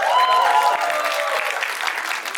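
Audience at a film trailer launch applauding and cheering, with a dense burst of clapping and whoops that stays loud before easing slightly.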